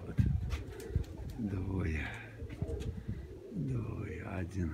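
Domestic pigeons coo near a pigeon keeper: soft, low, rolling coos repeat under ambient noise, close by.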